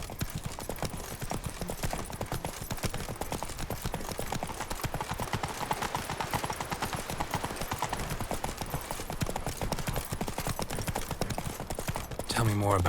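Roach the horse trots along in The Witcher 3, hooves clip-clopping in a steady, close, even rhythm for the whole stretch, set against soft game ambience with a voice faintly present.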